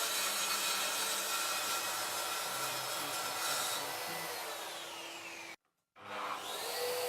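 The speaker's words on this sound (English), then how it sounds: "Here you can see just how smooth and controlled the plunge action is." A Mafell MT55 plunge saw makes a plunge cut, giving a steady, loud motor whine with a cutting drone that runs for about five seconds. The sound then cuts out abruptly, and the motor spins back up moments later.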